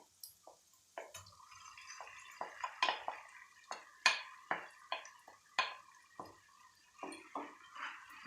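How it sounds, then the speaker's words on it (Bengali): Spice paste stirred into masala with Kashmiri red chilli powder in a pan, a spoon scraping and clinking in an irregular series of sharp, wet strokes, close and fairly quiet, with no talk. "ভালো করে মিক্সড করে নেব মশলার সাথে"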